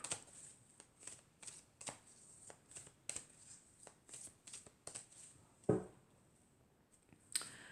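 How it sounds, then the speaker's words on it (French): Oracle cards are shuffled again and again in a quiet room, a rhythmic run of soft riffling flicks and taps heard close, with a louder knock near the end and no talking. "je vais mélanger à nouveau, puis je vais regarder la coupe"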